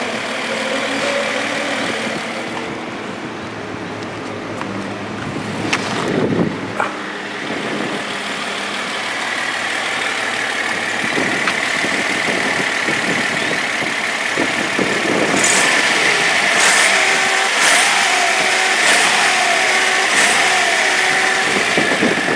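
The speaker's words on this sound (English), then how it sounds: "So the engine seems to be ticking along and running nicely." A Datsun 260Z, sold as the Nissan Fairlady Z, runs steadily at idle nearby, its engine holding an even, continuous drone with faint ticking and a few brief clicks over about twenty seconds, with no talking.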